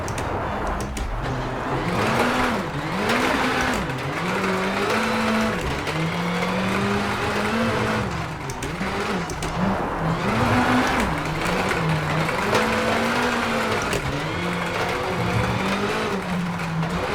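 Rally car engine in the WRC 8 video game during a fast lap, loud and steady with a rising and falling pitch as it revs through gear changes, close, with gravel and road noise underneath throughout.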